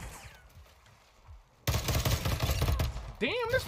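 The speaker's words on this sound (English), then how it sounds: "Damn, this pistol's hitting" Pistol fire in a video game bursts in after a quiet stretch, a loud run of sharp shots with a rising tonal whine near the end.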